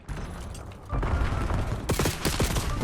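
Rapid bursts of gunfire in Call of Duty: Black Ops 7 multiplayer, set in a futuristic 2035, with sharp repeated shots crackling loudly in the second half over a dense, busy background of battle noise.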